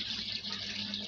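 Water pours steadily from a bucket into a manual washing machine, a soft, continuous splashing rush close by and fairly quiet, with no talking.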